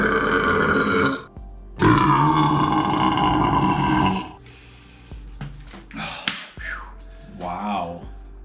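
Long, loud, deep burps in a burping contest, two sustained rumbling belches several seconds each, followed by quieter grunts, smacks and shorter noises up close.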